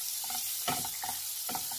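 Green chili and green garlic frying in a pan hiss with a steady, close sizzle, broken by three brief bursts of spatula stirring and scraping.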